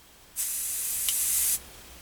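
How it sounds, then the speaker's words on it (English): A single steady burst of hissing spray from a double-action airbrush, about a second long, starting and stopping cleanly against a quiet background. "This is a double action airbrush, and when I depress the trigger down to let the airflow start,"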